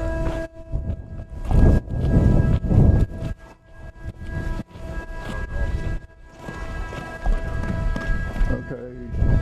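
Several Mustang horses move between pens, hooves clattering and thudding in bursts under steady talk from handlers, with a continuous background hum.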